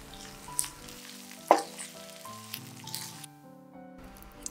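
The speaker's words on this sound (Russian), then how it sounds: "Отправляю нарезанный перец к луку и обжариваю еще 2-3 минутки." Sliced bell peppers and onion fry in a pan with a steady, moderate sizzle. Occasional stirring scrapes rise above it, and soft background music plays throughout.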